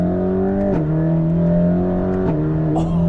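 A Mercedes-AMG GT Black Series accelerates hard in Sport mode, its engine and exhaust droning loudly up close, broken by quick gear shifts with brief crackling pops from the exhaust.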